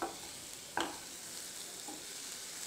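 Red chilies sautéed with browned onions in a pan, a faint steady sizzle with a couple of soft stirring scrapes.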